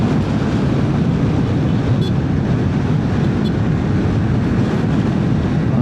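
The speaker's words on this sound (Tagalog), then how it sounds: "Lakas ng hangin." Strong, steady wind roars into the microphone throughout a motorcycle ride on the road through San Luis, Aurora toward Baler in stormy monsoon weather, a loud broadband rush with no break and no talk.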